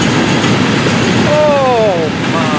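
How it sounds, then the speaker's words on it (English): A Florida East Coast ballast train of gondola and slide cars rumbles past with a dense, loud roar, and a short squeal of wheels on rails rises near the end. "Look at the gondolas. Oh my goodness. The ballast train. Look at the size of this train."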